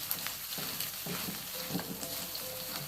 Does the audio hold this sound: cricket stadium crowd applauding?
no